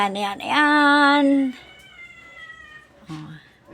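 Pet cats meow loudly up close, one long drawn-out meow followed by a shorter one, with quieter moments in between.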